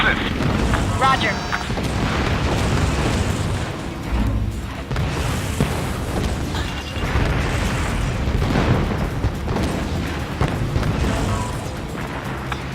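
Explosions rip through mortar positions during an airstrike in the Ace Combat Assault Horizon video game, with repeated heavy booms and rolling rumbles surging in waves, and radio chatter voices talking throughout.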